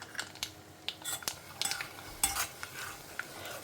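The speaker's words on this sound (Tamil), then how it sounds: "கொஞ்சம் பொடி வந்து எண்ணெயில் பொரிச்சாக்க நல்லா வாசனையாக இருக்கும்" Spice powder frying in oil in a pan for a tomato and garlic relish, heard as soft sizzling under a run of light scraping stirs and spoon clinks close by.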